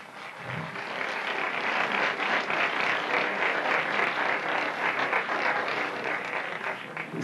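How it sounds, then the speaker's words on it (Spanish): Audience applause at a 1996 Hard Rock Café band showcase, honoring the percussionist: dense, steady clapping that holds evenly for about seven seconds with no voices over it. "Un aplauso a la percusión."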